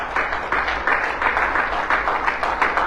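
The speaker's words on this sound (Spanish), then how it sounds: "Dele un aplauso fuerte al Señor" A church congregation claps for the Lord during a Sunday sermon. The clapping comes in rhythmic pulses and holds steady at a moderate level throughout, a rough and loosely synchronized crowd with a faint low hum underneath.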